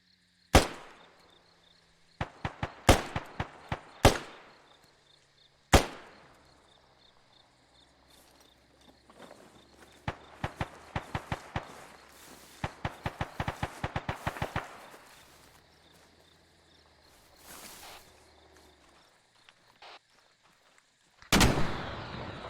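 Gunfire in the military shooter game Squad on the OP Rising Heat event, with sharp individual shots and bursts of rapid fire between quieter stretches of insect-like chirping, and a heavy blast near the end.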